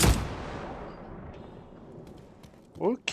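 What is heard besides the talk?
shotgun firing in video game Star Citizen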